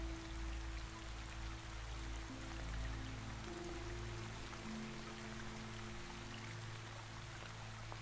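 Water flows gently beneath a valley road, a soft continuous trickling wash mixed with a faint steady hum, calm and even with no voices.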